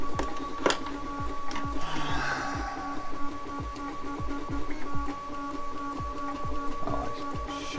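A Voron Trident 3D printer runs steadily, its stepper motors whining in a sustained tone while the toolhead makes repeated short rhythmic sweeps at roughly 100 millimetres per second, close and moderately loud.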